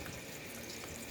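Steady rush of water running from a hose or tap while an outdoor Tempstar air conditioner unit is being cleaned, a continuous broadband splash heard alone at moderate level.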